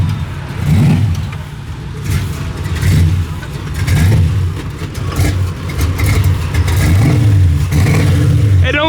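A modified car with skinny front tires and big rear slicks idles roughly at close range and is blipped to sharp revs about every three seconds, the throttle surging and falling back each time.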